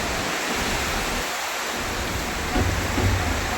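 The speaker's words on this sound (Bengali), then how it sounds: "আর প্রচুর পরিমাণে বৃষ্টি হচ্ছে, ঝড় আর বৃষ্টি একসঙ্গে হচ্ছে।" Heavy rain pours during a thunderstorm with strong wind bending coconut trees, a dense, unbroken hiss of downpour, loud and close, swelling slightly toward the end.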